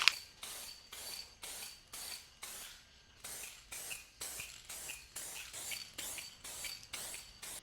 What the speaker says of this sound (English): we're gonna go ahead and apply the clear coat to our finished paint surface here